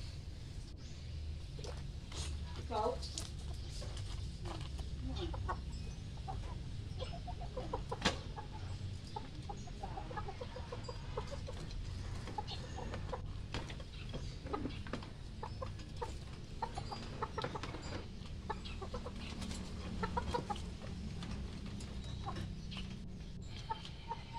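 Gamecock roosters cluck intermittently, soft and somewhat distant, over a steady low background hum.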